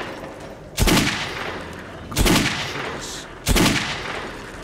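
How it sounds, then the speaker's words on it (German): Three loud, sharp gunshots from Metro 2033 Redux, fired at bottles on a shooting range. They are evenly spaced about a second and a half apart, and each crack trails off in a short echoing tail over quiet room tone. "Schießen wir mal die Flaschen weg."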